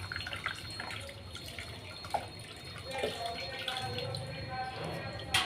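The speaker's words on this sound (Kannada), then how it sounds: "ಈಗ ಇದನ್ನು ತೊಳ್ಕೊಬೇಕು ನೀರಿಂದ." Tap water runs over a silver idol as it is rinsed, a steady splashing flow with occasional drips, moderately close and continuous, with quiet voices in the background.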